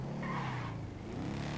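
A motorcycle engine in the video game GTA V drones steadily and loud, its pitch shifting slightly as it accelerates, with a faint squealing tone in the mids.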